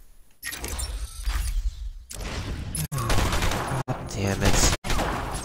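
Gunfire in Batman Arkham Asylum rattles in loud, sustained bursts broken by brief gaps, with a voice swearing over the shooting.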